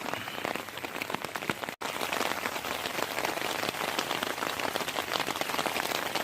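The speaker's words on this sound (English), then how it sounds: "waiting for the rain to let up." Steady rain falls during a bushcraft outing in the woods, heard as dense, close patter of drops on surfaces with no pause apart from one brief dropout.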